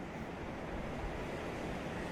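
Ocean surf below a harbour washes in a steady, even rush, broadband and unbroken, with a faint breeze and no one speaking.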